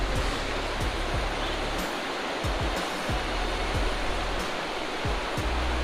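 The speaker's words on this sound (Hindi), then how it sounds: "क्या वाटरफॉल है, क्या व्यू है।" A waterfall in an Indian jungle pours with a constant, full rushing roar, close and steady, broken only by a few faint clicks.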